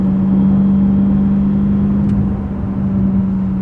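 A BMW M5 CS sedan's engine holds a steady, loud in-cabin drone while driving hard, with a continuous low hum that barely shifts and a brief click near the middle.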